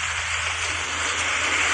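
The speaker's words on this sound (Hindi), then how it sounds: "बारिश तेज हो गई" Heavy rain falls steadily and loudly, a dense continuous wash of hiss with a low rumble underneath and no voices.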